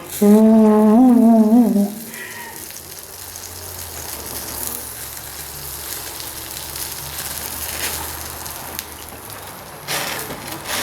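Steam and smoke hissing and gushing from the radiator of a Ford 800 tractor just after a test run, a steady broadband rush lasting several seconds, preceded by a brief loud harmonic tone at the start.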